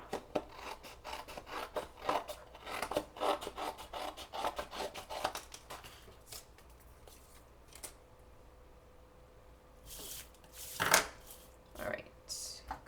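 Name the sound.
scissors cutting the top off paper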